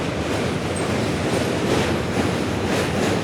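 A passing train rumbles and clatters loudly and continuously on the rails for the whole stretch, with a faint wheel squeal, close by and with no other sound on top.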